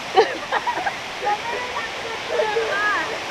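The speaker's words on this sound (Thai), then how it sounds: "ได้ยินเสียงน้ำตกดังคืนคืนเลยค่ะ" Steady rushing water from a loud waterfall among rocks fills the background, with someone speaking Thai over it and faint birdsong.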